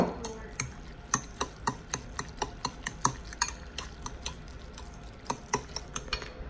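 Utensil stirring and mixing a bowl of spicy instant noodles, producing a steady run of sharp, close clicks and scrapes against the bowl in an irregular rhythm, with no talking.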